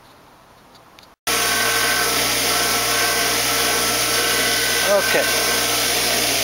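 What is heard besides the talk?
grinder running while grinding guides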